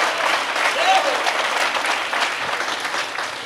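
An audience applauds during a sermon, steady dense clapping throughout with a crowd murmur, loud and close, a voice faintly audible under the applause.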